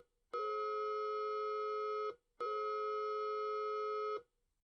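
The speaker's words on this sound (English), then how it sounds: "It was Morse code." Two long, steady electronic Morse code tones, each lasting just under two seconds with a short gap between, clear and close with no talking.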